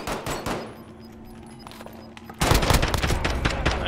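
Loud hipfire gunshots from a shooter video game, a rapid burst of sharp cracks that starts suddenly and runs on as dense, nearly continuous fire, after a quieter stretch with a few scattered shots.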